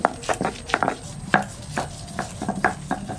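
Garlic pounded into paste on a stone, a rhythm of sharp, close knocks and scrapes with short irregular gaps, for a Kerala-style gongura chicken curry.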